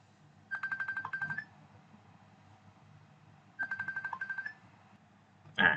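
A phone ringtone for an incoming call plays in two repeated bursts of a rapid pulsing melody, each about a second long, with a quiet pause between them and a brief louder blip at the end. The ringing is moderately loud with no talking.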